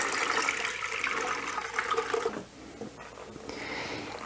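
Blended oat liquid pours into a cloth strainer in a steady, rushing, watery wash that stays close and continuous, then thins and softens toward the end.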